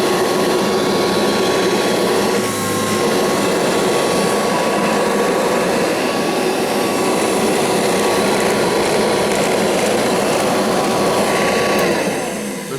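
A Kirby vacuum cleaner runs continuously at full power with a loud, steady motor whine and a rushing airflow roar, close by, winding down near the end.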